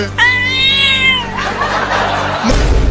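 A cat meows loudly in a long, drawn-out wail close by, followed by a noisy, scuffling stretch with a burst of background commotion near the end.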